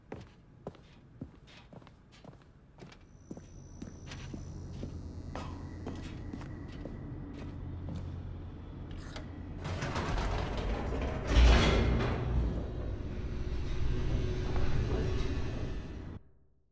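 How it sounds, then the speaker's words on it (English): In The Stanley Parable: Ultra Deluxe, an elevator descends fast with whirring gears, clanks and ratcheting machinery, starting with sparse clicks and taps and then swelling into a loud, dense mechanical roar before cutting off. "The elevator raced downward, plummeting towards an unknown fate."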